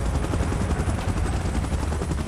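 A helicopter in the battle royale game BGMI gives off a steady, loud, dense rotor roar with a low throbbing pulse. The sound holds constant throughout, with no voices.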